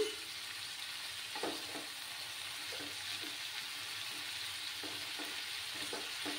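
Mixed vegetables with three slit green chillies fry in a pan over raised gas heat, giving a steady, soft sizzle with faint stirring scrapes throughout.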